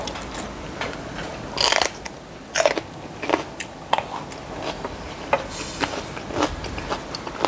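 Crisp bites and crunchy chewing of fresh raw vegetables eaten with fermented fish, close and distinct, a series of sharp crunches at irregular intervals with quiet pauses between.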